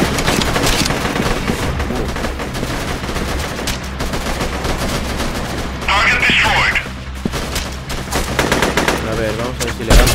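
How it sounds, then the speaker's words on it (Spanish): Bolt-action sniper rifle fire in the video game Freeman: Guerrilla Warfare, loud cracking shots amid a dense, continuous din of battle with overlapping gunfire and explosions. "Como es de cerrojo, cada vez que disparamos tenemos que darle al cerrojo."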